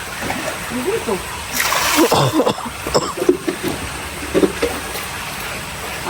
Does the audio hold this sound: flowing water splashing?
yes